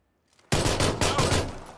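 Shotgun fire in PUBG erupts after a near-silent moment, a close, loud volley of several rapid blasts with ringing decay between them.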